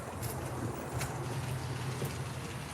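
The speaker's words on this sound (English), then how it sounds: "Oh, it's a windy day." Steady outdoor wind rumble buffeting the microphone, with a low roar and occasional gusty swells, no speech.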